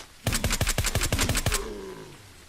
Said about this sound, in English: Nice to hear a bit of a different sounding gun every once in a while.